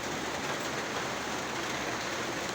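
Heavy rain pours down in a steady, unbroken hiss, a dense wash of water that neither swells nor fades, with no voices over it.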